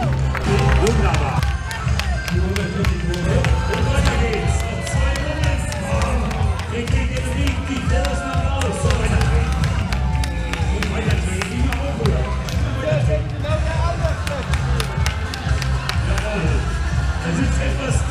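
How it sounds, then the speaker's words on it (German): Spectators at a youth bicycle race in Bürstadt clap and cheer steadily throughout, while an announcer talks over the applause on a loudspeaker. "Mit Applaus, meine Damen und Herren."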